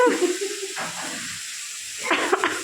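Shrimp and figs cooking in a pan make a close sizzle and hiss with stirring scrapes, quieter in the middle and swelling again near the end.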